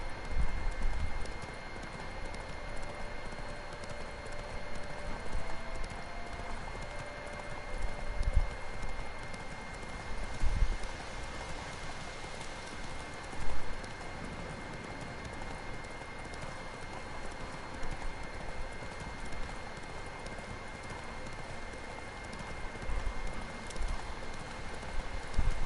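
Hooves of the horse Roach in The Witcher 3 clip-clop at a steady gallop over a constant game soundscape, moderately loud and unbroken for the whole stretch.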